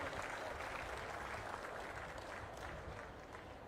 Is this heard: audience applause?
yes